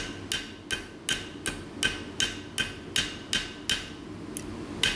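A hammer repeatedly striking hot metal while a spatula is forged, about a dozen sharp, ringing blows in a steady rhythm, close and loud with short pauses between strikes.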